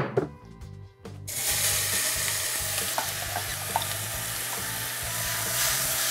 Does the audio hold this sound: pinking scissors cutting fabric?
no